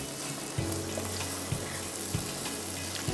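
Chicken handi being sautéed (bhuna) in a pan, a steady dense sizzle with a few soft knocks of stirring, continuous and fairly close with no talking.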